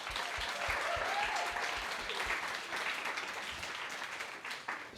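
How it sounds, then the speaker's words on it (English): A live audience at a podcast recording in Soho House breaks into sustained applause, a dense, steady wash of many hands clapping that holds strong throughout and eases slightly toward the end, with no talk over it. "join me in a round of applause for our guest"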